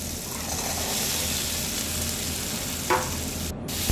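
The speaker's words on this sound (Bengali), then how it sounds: "আলুগুলোকে খুব ভালোভাবে মশলার সাথে নেড়ে চেড়ে মাখিয়ে নেব" Potatoes tossed into a hot, oily spice masala, giving a dense continuous sizzle up close, with a single clank of the utensil near the end.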